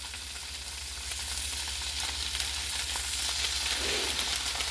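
Pork intestines, pork bung in sauce, fry in a pan just after being flipped, making a steady, dense, close-up sizzle that holds without a break, with no talk.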